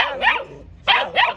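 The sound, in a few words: dogs barking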